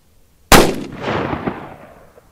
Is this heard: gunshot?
yes